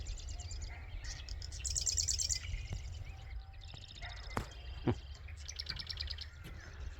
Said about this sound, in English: I'm not sure what kind of bird that is.